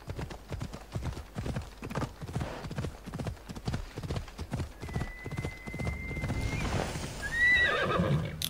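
A horse in the video game Assassin's Creed Odyssey gallops with a steady, rhythmic clip-clop of hooves, then slows and lets out a loud neigh near the end.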